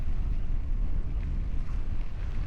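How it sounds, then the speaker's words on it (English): Steady wind buffets the microphone on an outdoor trail near Fort Collins, Colorado, a loud low rumble with gusty fluctuations and no voices. "it's a little windy today"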